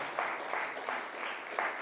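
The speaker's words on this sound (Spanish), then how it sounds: "Y demos un aplauso en agradecimiento a Dios por nuestros hijos, por nuestros jóvenes" A church congregation applauds together in a steady burst of clapping that holds for about two seconds at moderate loudness, with no talking over it.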